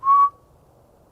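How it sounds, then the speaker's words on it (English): A single short, clear whistle, steady in pitch, fading into quiet. "I heard a whistle coming directly back from that direction."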